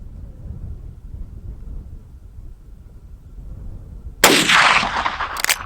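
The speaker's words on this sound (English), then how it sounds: "I'm going to fire a couple of these down there just to compare to those light loads." Two shots from a Rossi R92 lever-action rifle in .357 firing semi-jacketed hollow point rounds, a loud sharp blast followed closely by a second, after several seconds of quiet outdoor ambience.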